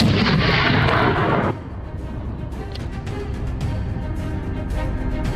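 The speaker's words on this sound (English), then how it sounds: "then a sharp, echoing gunshot rang out" A rifle shot fired while hunting wild boar at night lands as one loud, broad blast that holds for over a second and then drops into a long, rumbling echo and outdoor ambience.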